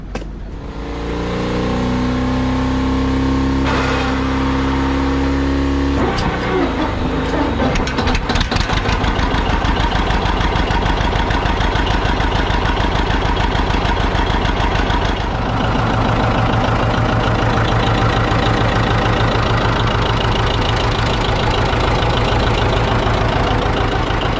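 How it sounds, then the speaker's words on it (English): A farm tractor engine runs during corn silage chopping, starting with a lower drone, then shifting into a loud, steady, rapidly pulsing chug that continues close by without pause. "That tractor, hearing that thing run, it's always music to my ears."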